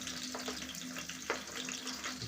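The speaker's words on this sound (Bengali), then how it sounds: "তেল তো এমনি গরম আছে, তেল দিয়ে মুরগি ভাজছি, আলু ভাজছি" Chicken pieces and potatoes frying in hot oil, a continuous close sizzle with a steady hiss and occasional crackles, with no voices.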